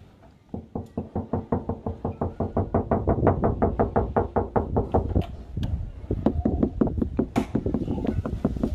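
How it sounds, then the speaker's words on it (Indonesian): Rapid, steady knocking on the roof of a Honda Mobilio car lined with heat-insulating headliner padding, a long run of close, dull taps that speeds up and carries on with no talking. "Setelah beres pasang peredam panas plafon, kita coba ketok-ketok."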